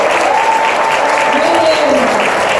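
An audience at a business training event in Madrid claps loudly and steadily throughout, a dense, sustained round of applause.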